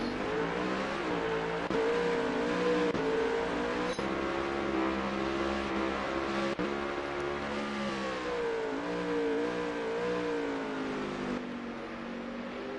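Race car engines howl on the Indianapolis Roval in a racing video game, with a steady, droning multi-car roar and shifting revs held throughout at an even level.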